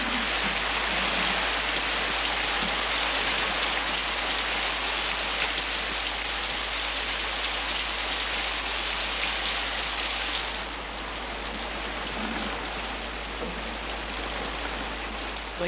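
Steady rain falls in a broad, continuous hiss on foggy coastal Britain, holding loud and even for about ten seconds before easing to a slightly softer patter, with no voices over it.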